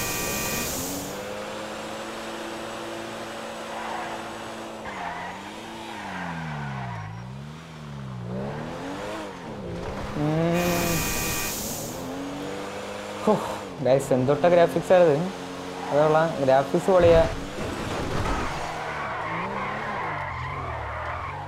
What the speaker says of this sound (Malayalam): ഡ്രിഫ്റ്റിങ്, ഓ ഡ്രിഫ്റ്റ് അടിക്കാൻ പറ്റിയ സ്ഥലമാണിത്